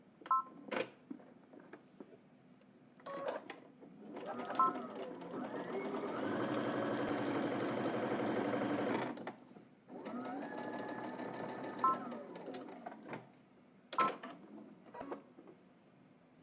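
Home sewing machine stitching a jumpsuit, with short bursts at the start and end and a long steady run in the middle, close and moderately loud, ending in a few clicks and taps.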